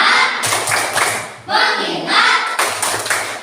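A classroom group claps in a chanted rhythm, bursts of hand claps in quick patterned sets, loud and close, mixed with voices calling along.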